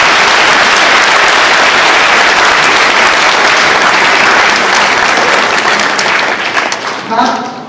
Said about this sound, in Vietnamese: Thêm chúng ta một tràng pháo tay